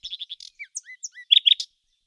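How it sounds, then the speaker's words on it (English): A nightingale sings a brief, bright sequence of varied chirps, trills and whistled notes, alone and clear, ending in a few louder emphatic phrases. "said the nightingale, and began to sing most delightfully."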